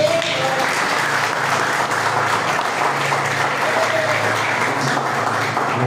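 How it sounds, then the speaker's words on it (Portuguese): A church congregation applauding during a Sunday worship service, a steady wash of many hands clapping at even loudness throughout, with a faint voice beneath. "Dizemos amém e aplaudimos o Senhor"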